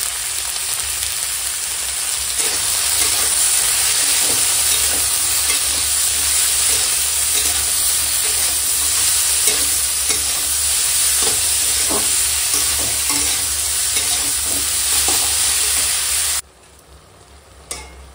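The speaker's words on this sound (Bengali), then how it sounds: "মশলাটা একটু সময় সবজিটার সঙ্গে কষিয়ে নেব" Spices with chili powder, turmeric and salt sauté with vegetables in a hot pan, a loud continuous sizzle with occasional stirring scrapes that runs steadily, then drops abruptly to a much quieter hiss near the end.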